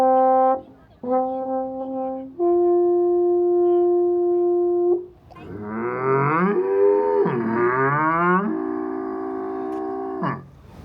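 A foghorn at Peggy's Cove, Nova Scotia, sounds long, loud steady blasts, then gives way to wavering, lowing calls over roughly ten seconds with no talk.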